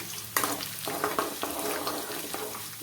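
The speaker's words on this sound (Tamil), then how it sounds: "இப்போ மிளகா வத்த போட்டாச்சு நல்லா பொரிஞ்சிருச்சு மிளகா வத்தவும்" Dried red chilies fry in hot oil for tamarind rice, crackling and sizzling briskly up close with small sharp pops and stirring scrapes, without any voices.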